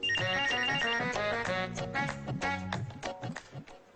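A telephone ringtone plays a loud, bright electronic melody of quick repeated notes, continuous throughout and fading slightly toward the end, with no voices over it.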